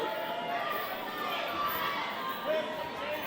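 Wrestling crowd at an independent show chanting for Chris Cook, a dense steady roar of many voices filling the arena, fairly loud and continuous with a slight swell near the end.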